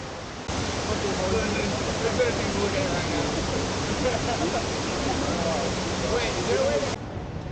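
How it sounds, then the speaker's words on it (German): Water pours steadily into the square memorial pools at Ground Zero in Manhattan, set in the footprints of the former Twin Towers, making a loud, continuous rushing roar that holds evenly for several seconds with no voices on top. "zwei quadratische Becken, die den Grundrissen der damaligen Zwillingstürme entsprechen und in die Wasser fließt"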